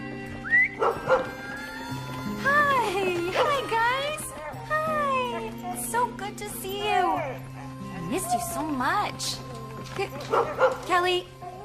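A dog barks and whimpers repeatedly in short yips and bow-wows, fairly close, interleaved with people talking in a domestic scene.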